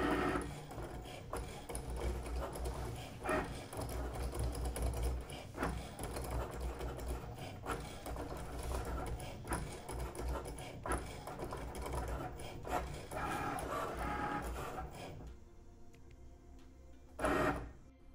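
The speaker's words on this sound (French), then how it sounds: "Tu vas entendre des bruits bizarres pour la première fois. Pas de panique, c'est normal. Tu vas pouvoir apprécier la rapidité de découpe" A Cricut Maker 3 cutting machine works through a cut, whirring and clicking with busy mechanical motor sounds and rapid carriage movements, then falls quiet before a final brief whir.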